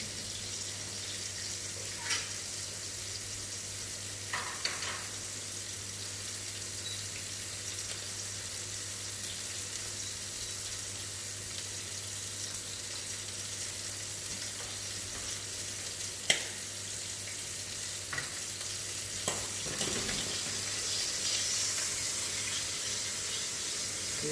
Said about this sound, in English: now the frying